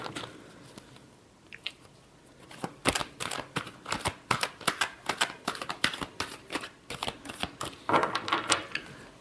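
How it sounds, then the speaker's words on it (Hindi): A deck of tarot cards shuffled by hand: quick, crisp flicks and clicks in uneven bursts, close and fairly quiet, with no one talking. "last shuffle"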